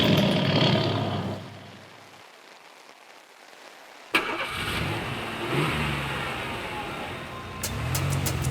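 A car engine starts abruptly after a quiet stretch, cranking and catching into a steady mid-pitched running rumble with a faint hiss, close and fairly loud, no talking.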